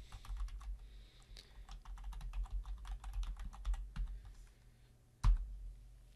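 A password is typed on a computer keyboard with quick, light key clicks in uneven bursts, then one sharper, louder keystroke near the end, close-miked in a quiet room with no speech.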